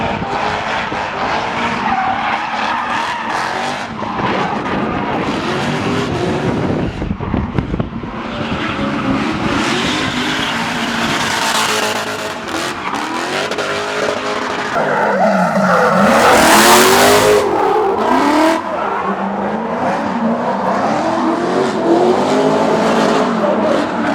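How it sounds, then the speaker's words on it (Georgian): A car drifting at a driver-training session, with loud tire squeal and skidding screech alongside engine revving and accelerating, rising and falling in long sweeps, heard up close. "მათეს აქვს საოცარი უნარი მანქანა ატაროს დრიფტში იმაზე თხელი კუთხით ვიდრე ავტობანზე დადის ხალხი."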